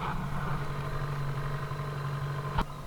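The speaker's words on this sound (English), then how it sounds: "If we look down here, the engine is running." Outboard engine running on a modified Jeanneau Rigiflex inflatable boat on a river, a steady idling drone with a constant low hum throughout and a brief knock near the end.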